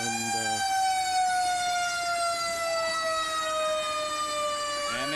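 A fire engine on a hook-and-ladder truck wails its siren at a town parade in 2015, loud and close, with a sustained tone that slowly falls in pitch.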